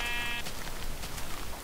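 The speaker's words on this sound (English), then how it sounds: "Come here, sheep." A Minecraft sheep gives a short, buzzy, nasal bleat at the start, close and fairly loud, followed by soft game ambience and faint clicks.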